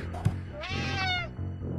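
A cat meows once in the Friday the 13th: Killer Puzzle video game, a clear, rising-then-falling cry lasting about a second, loud and close, with faint game sounds around it.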